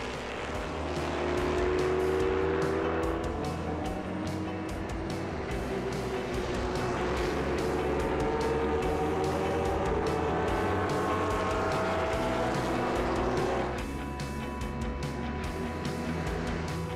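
Vintage prototype race cars such as Porsche 917s, Ferrari 512, Lola T70s and Chevron B16s roar around the Le Mans Classic circuit, loud sustained engine howl from several cars passing, with no talking.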